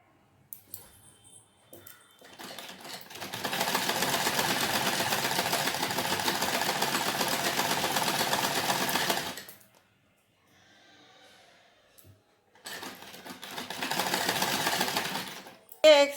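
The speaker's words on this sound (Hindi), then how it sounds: "अभी पहले सिल के बताते हैं दोनों पट्टी।" An electric sewing machine stitches strips for a salwar in two long continuous runs, a steady close whir separated by a quiet pause, with brief handling sounds between.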